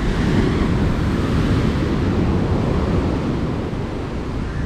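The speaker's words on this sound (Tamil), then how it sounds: "அப்போ இதுதான் பீச்சு." Sea waves wash continuously onto a beach in a loud, broad roar, with wind buffeting the microphone throughout and no voices.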